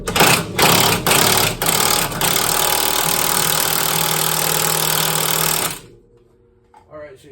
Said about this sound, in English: I normally don't like to impact these rusty bolts because they have a tendency to snap off on you